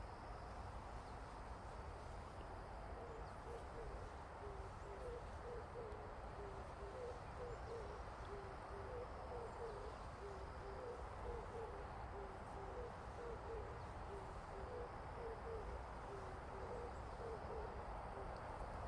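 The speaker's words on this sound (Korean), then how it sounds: "이 소리가 비둘기 소리더라고요." Pigeon cooing at a distance, a soft low repeated hooting call in a steady rhythmic series, faint beneath a constant broadband background hiss.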